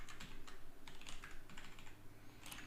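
Rapid, close typing on a computer keyboard, a dense run of soft key clicks with brief pauses between bursts, heard on its own without speech.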